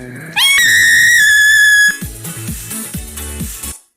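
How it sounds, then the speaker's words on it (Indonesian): A VTuber lets out an ear-splitting, whistle-shrill scream held for over a second at high pitch, followed by jumbled bright, clattering sounds that fade out. "Infamous for her ear-splitting scream."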